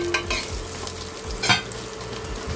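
Chopped onion with garlic frying in a little oil in a pot while making pumpkin soup, a steady close sizzle broken by repeated scraping stirs and one louder clack midway.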